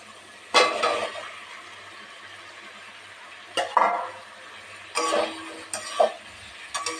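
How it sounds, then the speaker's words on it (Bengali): Cauliflower and potato pieces stirred in hot oil in a pan give several separate scraping bursts against the metal, loud and near. They come in irregular clusters over a low sizzle. "একটু নাড়িয়ে নেব"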